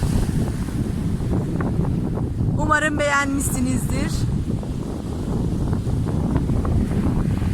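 Loud, steady roar of sea waves breaking on a shore, with gusting wind buffeting the microphone throughout. Someone speaks briefly in the middle over the surf.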